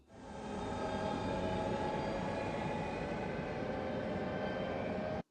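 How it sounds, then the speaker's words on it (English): Doom Train from a Final Fantasy video game gives a steady, low droning rumble with a faint whistling tone on top that holds evenly for about five seconds and then cuts off abruptly. "Here's actually a soundbite of our train, and let me know how eerie, if at all, it does sound to you."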